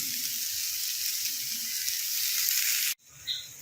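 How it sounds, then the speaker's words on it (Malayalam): Chopped beans, about 300 grams with a teaspoon of salt, fry in a pan with a loud, constant sizzle that cuts off abruptly near the end, leaving a brief quieter tail. "ഇതിനകത്തേക്ക് ഞാൻ അരിഞ്ഞ് വെച്ച ബീൻസ് ഇടുവാണേ."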